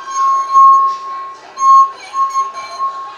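Wet fingertip circling a wine glass rim draws out a sustained singing tone that rises and dips in loudness over a few seconds, heard up close on its own.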